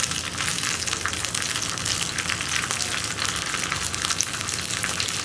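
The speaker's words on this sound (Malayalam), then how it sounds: "ഇനി കറിവേപ്പിലയും വറ്റൽമുളകും ഒന്ന് കുക്കായി വരണം." Dried red chilies and curry leaves frying in hot oil for a potato curry, a dense continuous sizzle and crackle that holds steady and close throughout without any voices.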